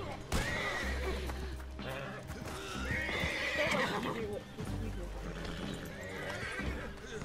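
Horse in the Red Dead Redemption 2 Online video game, a neigh and whinny over clip-clopping hooves amid game ambience, with a person talking over much of it.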